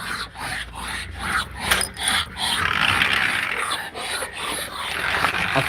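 A dog growls in low, rumbling bursts, close by, mixed with rough rasping and rubbing noises during nail trimming.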